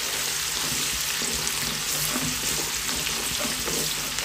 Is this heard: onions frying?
yes